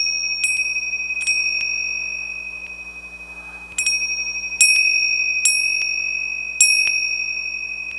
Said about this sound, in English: just ring the bell a little bit too.